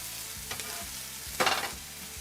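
Diced onion cooks in melted butter in a pan, a soft steady sizzle with a couple of scraping stirs, one stronger rustling push partway through.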